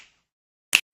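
One crisp, close finger snap rings out alone in near silence.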